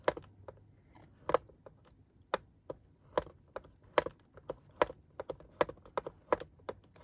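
Scoring lines into solid cardstock, a series of sharp, close taps and clicks at an irregular pace, quiet between hits, some strikes louder than others.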